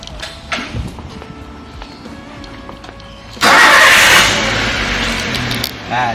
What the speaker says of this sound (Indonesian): kemudian sekarang kendaraan saya nyalakan